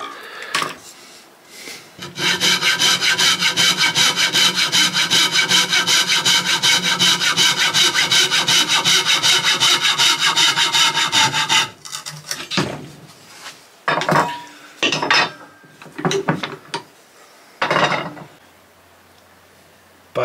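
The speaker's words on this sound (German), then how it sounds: "Als erstes habe ich das Buchenrundholz in der Mitte geteilt bei 50 cm." A saw cuts through a beech round log at the middle, 50 cm along, in one loud, continuous stretch of about nine seconds, followed by scattered knocks and scrapes of wood being handled.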